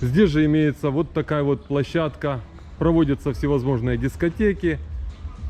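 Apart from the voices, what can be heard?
No everyday noises stand out.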